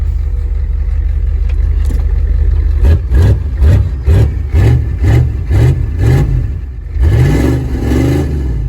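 A van engine idles loudly up close, then revs in a quick series of about eight short throttle blips, settling briefly before one longer rev near the end.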